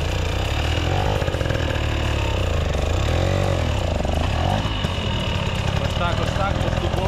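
A hard enduro motorcycle labours up a slope at a Ukrainian championship near Zhytomyr, its engine revving and bogging in rising and falling waves, loud and close, with a voice talking over it.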